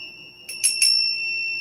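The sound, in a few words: bells rung to set the mood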